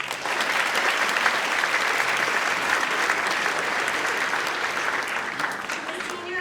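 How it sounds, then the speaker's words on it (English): Sustained applause from a large crowd at a high school senior awards ceremony, steady and dense clapping throughout, fairly loud and close. "a round of applause for the parents"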